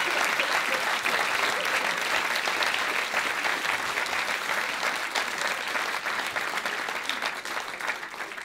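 An audience applauding at a stand-up comedy show, dense sustained clapping from a full room, loud throughout and fading slightly toward the end, with no talk over it.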